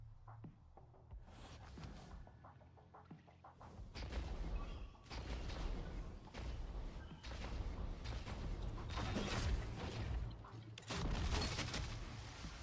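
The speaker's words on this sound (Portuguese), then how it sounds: "Um tiro!" Bursts of gunfire from a PvP shooter game ring out in rapid, overlapping volleys, loud and close, with a few sharp booms and no talk over them.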